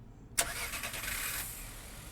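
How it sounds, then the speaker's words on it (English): A car engine in a Chinese puzzle-horror game cranks and catches with a sharp onset, then settles into a steady mid-pitched idle heard from outside a door. "Sound of a car starting is coming from outside the door."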